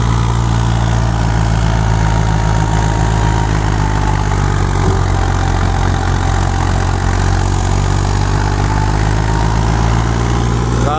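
A rice harvester engine held at full throttle, producing a loud, steady, heavy drone with constant vibration that runs unbroken from start to finish, with no voices.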